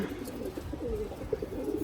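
A female racing pigeon gives a soft, low cooing call, faint and brief, with a few gentle murmuring pulses close by and no talk.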